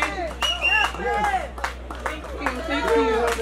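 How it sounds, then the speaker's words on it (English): Audience applause and scattered clapping at an outdoor Garifuna street festival stage ceremony in Los Angeles, moderately loud and mixed with crowd chatter and talking voices throughout. "Let's give him a round of applause."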